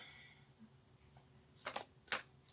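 Large oracle cards shuffled by hand, two quick bursts of riffling rustle near the end after a stretch of quiet room tone, close and fairly soft.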